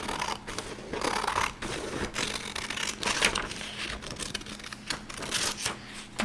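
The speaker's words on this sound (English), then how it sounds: "Alright, so we're going to cut it on the dotted lines." Scissors cut paper along dotted lines in quick, repeated crisp snips, close and fairly loud, with short pauses between strokes and no talking.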